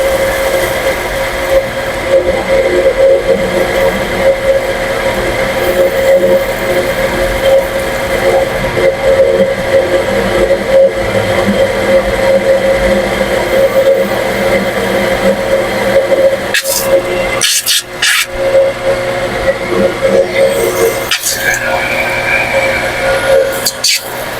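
A deepwell pump converted for shallow-well use runs loudly and steadily, a continuous motor hum with a strong tonal whine, close and unbroken for the whole stretch apart from a few brief dips near the end.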